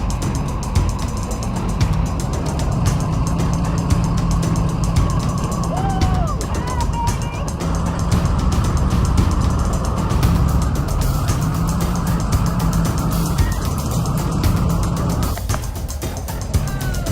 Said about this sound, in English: So far, ATV ride is my favorite.